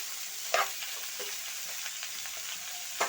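Food, likely beans, sizzles steadily while frying in a pan for a Bengali fish curry, with a few soft stirring scrapes and clinks breaking through the constant crackle, close and moderately loud.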